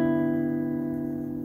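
A single guitar chord rings out steadily, its notes sustaining and slowly fading, with no voices.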